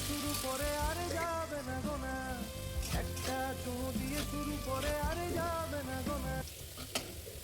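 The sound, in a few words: potatoes frying in a pan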